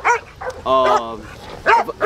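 Dogs bark and yip in a rural yard kept for hunting raccoons, varmints and bobcats, with several loud, close barks and a drawn-out howling yelp in between, mixed with some voice.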